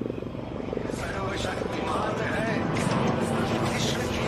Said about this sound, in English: the light combat helicopter Prachand